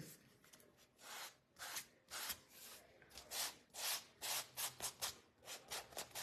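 Sandpaper rubs over a wooden mini kitchen hutch from a blank craft kit, a steady series of short back-and-forth scratchy strokes, close and fairly quiet, with no talking.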